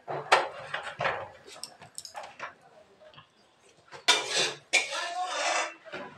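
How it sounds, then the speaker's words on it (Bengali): Pots, dishes and cutlery clattering during home cooking at midday, intermittent metallic clinks and knocks at close range, with a voice heard in between. "আমিও রান্না করছি, শেষই হয়ে গেছে প্রায়।"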